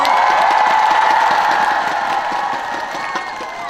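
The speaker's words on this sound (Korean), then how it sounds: "큰 박수 한번 주시겠어요?" A big crowd applauding steadily at a singing contest, dense clapping with some cheering mixed in, loud and sustained before gradually easing off.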